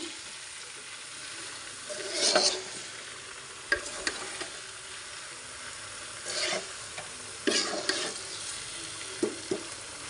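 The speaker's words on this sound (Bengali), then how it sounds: "গুড় দিয়ে আবারও নেড়ে ছেড়ে ভালোভাবে মিশিয়ে নিব।" Hog plum pickle with jaggery stirred in a pan: a steady low sizzle under intermittent scraping and thick, sticky stirring strokes, a few louder bursts and small clinks spread across the span, close and moderate in volume.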